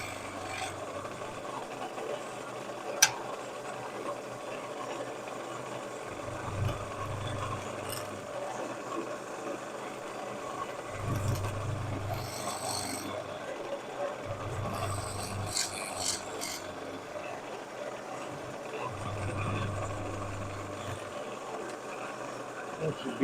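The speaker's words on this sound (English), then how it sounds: "I'm just drilling myself an entry hole" A spindle gouge cuts an entry hole into wood spinning on a lathe, giving a continuous raspy scraping under the lathe's low motor hum, with occasional louder bursts of cutting.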